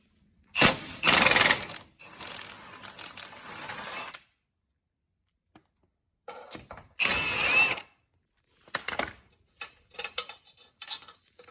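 Ratchet and tools working loose 14 mm bolts on a 2009 Pontiac Vibe, short metallic clicking and clanking bursts separated by silent gaps, close by with no talking.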